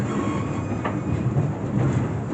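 A Branson Scenic Railway train rolls along the tracks with a steady low rumble and soft rhythmic clatter of wheels, heard from inside the car.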